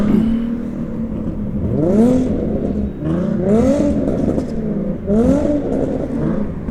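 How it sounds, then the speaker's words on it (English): Two loud cars rev side by side outdoors in wind, their engines rising and falling in three repeated surges of climbing pitch, close and continuous. "There's two loud cars right next to each other."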